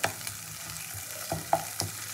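A paste of ginger and cumin is being sautéed with spices in a pan. A soft, steady sizzle is broken by a few scraping stirs, quiet and close, with no talk.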